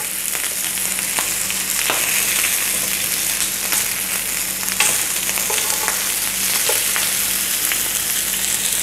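Lamb chop sizzles on a grill pan in a steady, close, crackling hiss with faint pops and utensil ticks, no voices.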